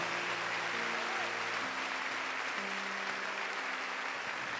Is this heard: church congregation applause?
yes